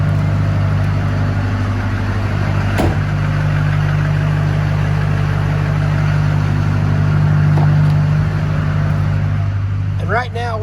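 A straight-piped Duramax diesel in a Chevrolet Silverado or GMC Sierra idles with a loud, deep, steady rumble up close, while a person talks briefly over it and a door thuds.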